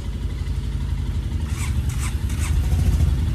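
A Royal Enfield Himalayan or Honda CB 350 RS motorcycle engine idles steadily up close on an offroad trail in Manang, its low throbbing rumble continuous and rising slightly near the end.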